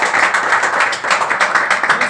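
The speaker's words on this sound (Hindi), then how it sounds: "आप सबके पिताजी खेती किसानी करते तो एक बार जबरदस्ती वाली ताली ठोको" Students in a training session clap together, a dense, sustained burst of many hands slapping at once, loud and close for about two seconds with no talking over it.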